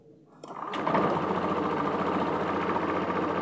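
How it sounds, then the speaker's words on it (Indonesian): Honda Vario 150 scooter engine starting after a brief silence, catching within a second and settling into a steady, close, even idle with a fast regular pulse that continues alone. "Kita coba nyalakan motor."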